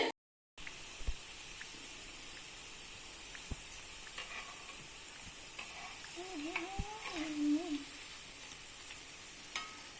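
Mundhiri kothu sweets frying in oil give off a steady, soft sizzle with occasional clinks of stirring and brief faint tones in the background.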